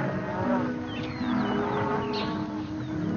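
Several cattle in a Maasai village moo in long, overlapping low calls, fairly close, with a steady murmur of background noise.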